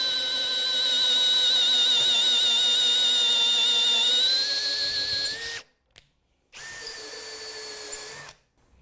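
A power drill bores a 12 mm hole into a wooden chair seat, whining steadily for over five seconds, then cutting out, with a short second burst after a pause, loud and close.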